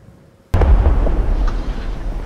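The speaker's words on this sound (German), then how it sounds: "unsere Raketen schießen" A loud, sudden rocket launch blast in a WWII artillery duel video game, opening with a sharp crack and rolling into a sustained deep roar that rumbles on close and heavy with no voices.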